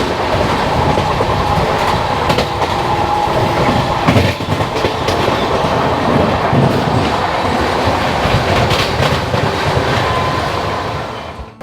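A passenger train on a long-distance run from Jammu to Tirupati, past Ludhiana, rushes along at high speed with a loud, continuous roar and rattle of wheels on track, heard from onboard with no voices.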